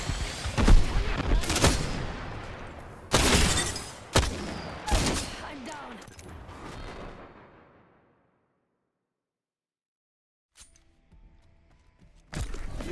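Apex Legends gunfire: several sharp, heavy bursts of shots close up, separated by short gaps, then the fight drops to near silence before a last burst at the end.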